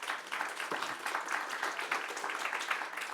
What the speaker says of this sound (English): I hope you can hear the applause we're giving you.